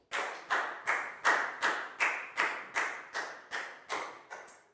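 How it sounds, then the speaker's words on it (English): Children in a Year 4 maths class clap for a classmate in a slow, even rhythm of about a dozen distinct, fairly close claps, with no talking over them. "High five and a big round of applause for Pak Bung, please, guys."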